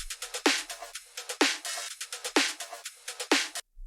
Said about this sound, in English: We have an acoustic drums group that sounds like this on itself.